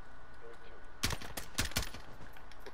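Several quick bursts of gunfire ring out in Call of Duty Modern Warfare, sharp clustered shots over a faint steady background.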